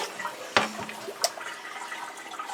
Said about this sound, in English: I'm going to drain my potatoes because I put them in some water